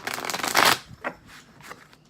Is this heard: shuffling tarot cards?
yes